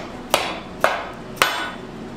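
Hammer tapping bearing caps on a Ford 347 stroker engine build, three sharp metallic knocks evenly spaced about half a second apart, close and clear.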